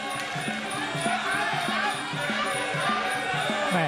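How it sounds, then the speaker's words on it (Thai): At a Muay Thai bout, a crowd of fans keeps up loud, continuous rhythmic chanting and cheering, with a repeating beat running under a commentator's excited speech. "แม่แต่ว่ากองเชียร์บาเซียบาซินก็ยังส่งเสียงเชียร์อยู่นะครับ"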